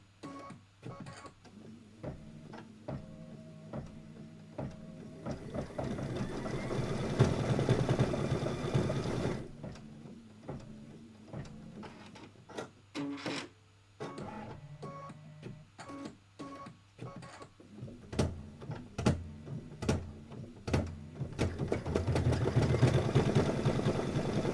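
A home embroidery machine stitches out a quilt block design, its needle hammering in fast rhythmic bursts with a motor hum, pausing briefly between runs before resuming, close and continuous over the span.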